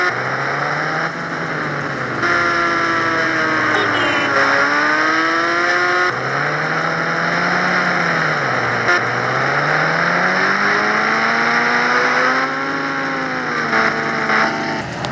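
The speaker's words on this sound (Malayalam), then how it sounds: "നമുക്ക് ബൈക്ക് എടുത്ത് നേരെ വീട്ടിലോട്ട് പോകാം" A motorcycle engine revs and shifts pitch continuously while riding in a video game, rising and falling through gear changes, loud and steady with no talk.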